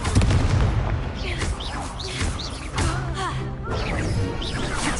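The Confringo fire blast spell in Hogwarts Legacy, set amid constant loud combat: fiery crashes, booming impacts and whooshes layered densely together with no pauses, under a running battle mix.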